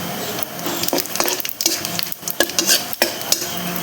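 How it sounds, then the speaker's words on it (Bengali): Whole cardamom, cloves, cinnamon pieces and cumin seeds fry in hot oil, giving a close, busy sizzle with sharp crackles and the clinks and scrapes of a spoon stirring against the pan. "মশলাটা একটু ভাজা ভাজা করে এখন আমি গোটা জিরে দিয়ে দিচ্ছি।"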